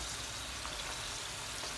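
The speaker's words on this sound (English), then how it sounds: "So our yam has been frying for a while now." Steady, soft crackling sizzle of yam deep frying in hot oil, continuous and even with no voices.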